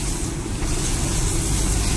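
Rough, churning sea at a Konkan beach near Ganpatipule, Ratnagiri, during heavy monsoon rain, a dense continuous roar of surf, wind and rain filling the scene loudly and steadily without any voices.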